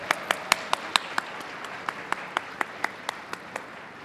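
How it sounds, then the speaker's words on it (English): Sparse applause from the audience at the 2022 Hugo Awards ceremony, a few hands clapping in a steady, fairly quick rhythm over a soft room hum, gradually thinning out over about four seconds. "So give yourselves a round of applause"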